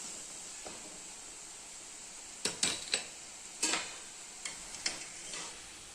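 Boondi batter frying in oil for motichoor laddu, a low hiss of frying under a handful of sharp metallic clinks and scrapes from a ladle against the pan, clustered in the second half, close, no talking.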